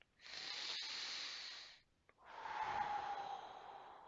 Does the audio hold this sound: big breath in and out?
yes